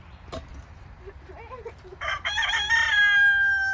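Hens cluck softly, then a rooster crows loudly and close, the call stretching out at the end.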